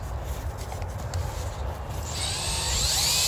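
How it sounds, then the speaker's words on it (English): Low rumbling handling noise gives way to a high, whirring whine of a power drill, running in reverse to remove screws from a beehive's winter protection, spinning up and running steadily. "my drill's going the wrong direction"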